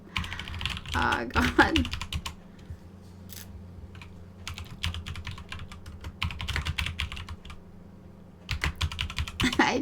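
Quick bursts of typing on a computer keyboard, with clustered key clicks separated by pauses, heard close over a steady low game-music hum while a voice speaks briefly.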